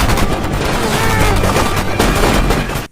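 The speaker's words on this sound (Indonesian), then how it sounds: "di situ ada banyak peluru yang berterbangan" Gunfire in a war film battle scene: loud, dense rattling bursts of shots with booming impacts, continuous for about three seconds before cutting off abruptly.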